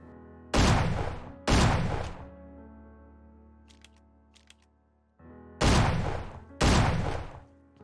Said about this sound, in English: There have been some cool new weapon additions like the sawed-off shotgun, which replaces the pistol basically